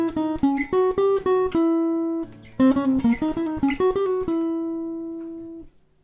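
Guitar plays a quick diminished melodic cell, then repeats it shifted up in minor thirds on one string set: two bursts of crisp picked notes, each ending on a sustained ringing note, close and clean with no talking.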